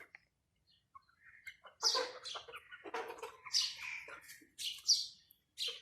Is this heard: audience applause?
no